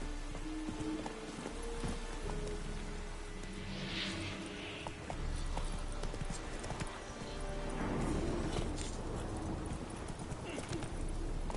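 Hooves of Roach, the horse in The Witcher 3, clip-clop steadily over ground at a trotting rhythm, moderately close, with a voice talking over them at times.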